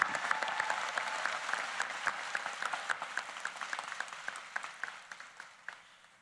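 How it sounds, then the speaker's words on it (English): Applause for honors graduates at a university convocation ceremony, steady crowd clapping with individual sharp claps standing out, thinning gradually toward the end. "Please join me in another round of applause for our similar honors graduates."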